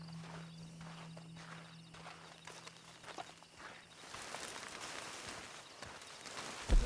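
Hooves clip-clop at an unhurried walking pace over a low steady hum, joined midway by a louder hissing rush of background noise, from a horse in Red Dead Online.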